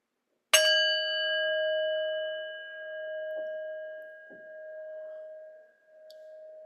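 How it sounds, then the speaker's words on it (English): A single clear bell strike rings out, its bright tone lingering and slowly fading away in otherwise quiet surroundings. "As the sound of the bell fades, let's start to wake up your body."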